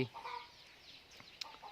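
Chicks and a hen clucking on a Thai farm, a hatch of young chicks calling for the mother; faint, scattered peeps and clucks at a distance.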